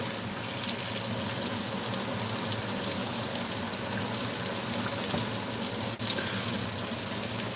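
Hot water running into a small pan to set up a bain-marie, a steady loud rushing pour that continues without a break, close by with no voices over it.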